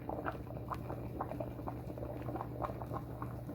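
Meatless pea soup with squash and carrots bubbling in a pot, a soft continuous simmer with small irregular pops and blips, quiet and close.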